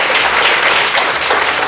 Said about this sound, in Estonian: Adrian, teeme suure aplausi Brigitte Susanne Hundile.